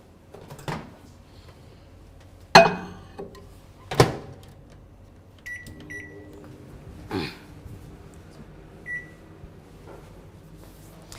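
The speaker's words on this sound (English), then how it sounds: "We'll put this into the microwave for a minute." A microwave oven heating glaze hums faintly while sharp clicks and clunks from its door and buttons sound, followed by short beeps.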